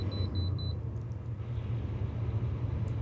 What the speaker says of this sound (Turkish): Motor frenimiz. Bayağı bir ses geliyor bu arada motor freninden.